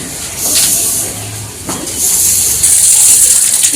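Water gushes and hisses steadily from a tap, a broad splashing rush that swells louder in places and continues throughout, with faint background voices.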